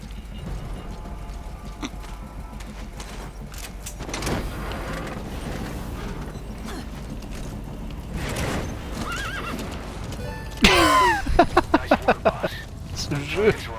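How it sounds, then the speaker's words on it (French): Armored horse from Metal Gear Solid V neighing and whinnying, with clip-clop hoofbeats and game sounds; a loud burst of repeated whinnies rises near the end over background noise and occasional talk. "Le mec il se dit c'est juste un cheval blindé normal."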